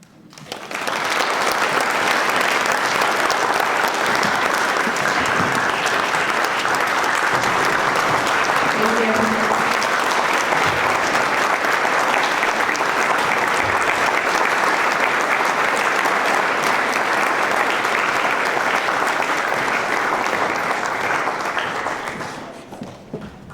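Loud, sustained applause from a large audience honouring educators at a recognition ceremony, a dense wash of clapping that holds steady for over twenty seconds before tapering off at the end.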